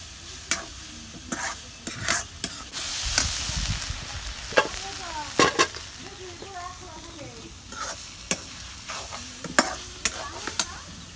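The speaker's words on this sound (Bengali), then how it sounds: "দেখো শাক ভাজা শেষ এখন আমি নামে নিব" Leafy greens stir-fried in a pan, with a soft sizzle beneath sharp, repeated scrapes and clacks of a spatula at an uneven rhythm, loud and close, with brief quiet gaps between strokes.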